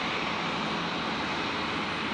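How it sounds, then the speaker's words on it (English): Jetstar Airbus A320 arriving from Melbourne touches down on runway 19 left at Brisbane Airport at night, a steady broadband engine roar and rush filling the short stretch at moderate loudness with no talk. "Jetstar 570 touching down there on 19 left. The 320 arriving from Melbourne."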